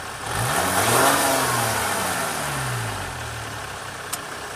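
A 2017 Ram 1500 EcoDiesel pickup engine revs up from idle, swells to a rising, loud peak, then winds back down to a steady idle, with a brief click near the end.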